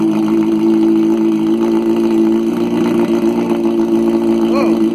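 A Honda CBR 600F motorcycle with a straight-pipe exhaust of about one and a half inches idles close by, a steady rumbling drone with a faint rising whine near the end.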